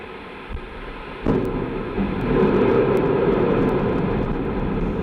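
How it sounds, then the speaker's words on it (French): Ariane 5 rocket's Vulcain main engine igniting on the launch pad, a broad roar surging in abruptly after a quieter rumble and holding steady and loud, with no voices. "top, allumage Vulcain."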